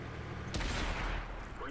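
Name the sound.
tank cannon shots in video game World of Tanks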